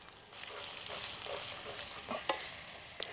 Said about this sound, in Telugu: మళ్ళీ ఇది కూడా పచ్చి వాసన పోయేంత వరకు ఇట్లా కలబెట్టుకోవాలి